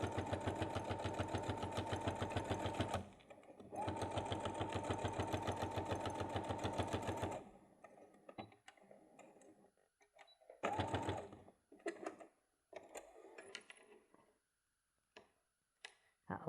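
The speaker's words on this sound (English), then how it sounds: "I'm going to sew this bit just to keep it flat to help me put my pocket in." A sewing machine stitches a flat seam on a fabric bag to hold a pocket in place, running in two loud, steady bursts, then stopping and starting in short uneven runs with pauses.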